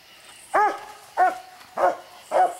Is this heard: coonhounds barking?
yes